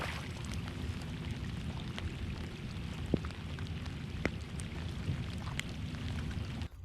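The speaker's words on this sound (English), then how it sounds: "Rain's coming back." Rain falls over a lake in a dense, even hiss, with a few louder drops and ticks standing out now and then, steady and fairly faint with no voices.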